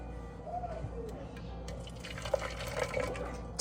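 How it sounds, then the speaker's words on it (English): Hot water is poured into a cup while making a mango-flavoured Herbalife tea. The liquid runs and trickles fairly quietly with small splashes, growing a little fuller toward the end. "We're going to start with some hot water"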